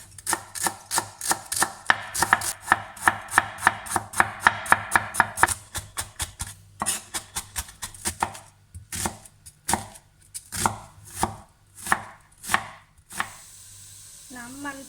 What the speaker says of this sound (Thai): สับไม่จำเป็นต้องละเอียดนะคะเพราะว่าเดี๋ยวเราจะเอาไปตุ๋นมันก็จะเปื่อยนุ่มไปเอง